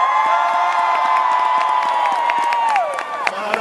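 Spectators at the Holmenkollen ski world championships in Oslo make a loud, sustained crowd roar with whistles and scattered cheering. A steady tone slides downward near the end.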